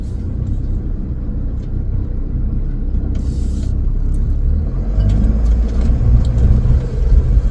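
A motorhome pulls away after the handbrake is released, a loud low engine rumble building steadily as it moves off, close by, with a brief hiss of air partway through and no talking.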